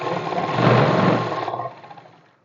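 A sewing machine stitches straight-cut pant fabric in one continuous run of fast, even needle chatter that slows and fades to a stop near the end, with no talking.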